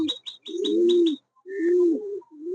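Pigeons coo up close in two drawn-out, throaty phrases, with a few soft chirps at the start, and no voices.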